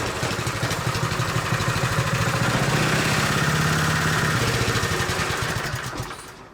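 A small Honda GX160 gasoline engine runs steadily with a rapid, rattling putter, loud and close, then begins to wind down near the end.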